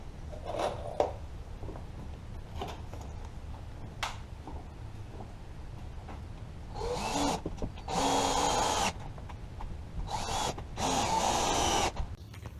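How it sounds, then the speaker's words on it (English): A power drill drives screws into the back of a shop bench, a few short whirs and then longer, louder bursts of whining motor, close by, with quiet handling knocks in the gaps. "I'm going to go ahead and screw off the back"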